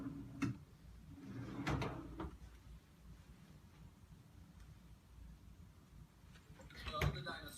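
A household drawer is checked during a room inspection, giving a few short wooden knocks and slides near the start and again toward the end, with a quiet room in between.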